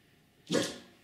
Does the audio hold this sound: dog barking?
yes